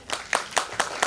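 Hands clap at an annual day celebration, five sharp, evenly spaced claps in quick succession, fairly close and distinct.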